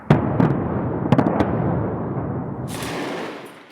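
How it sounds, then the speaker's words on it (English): Explosions in the Syrian border town of Kobani, a few kilometres from the Turkish border: several sharp blasts in the first second and a half, then a sustained low rumbling roar that lingers and fades, with no voices. "explosions rock the town a few kilometers away from the Turkish border"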